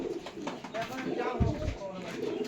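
A male Giribaz pigeon of the Fulshira type gives a low, soft coo near the middle, close by, beneath someone talking over faint background murmur.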